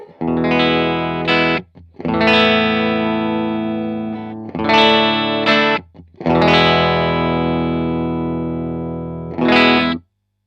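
Clean-toned electric guitar chords ring out loud and sustained, four strummed chords with short gaps between them, each left to ring before the next.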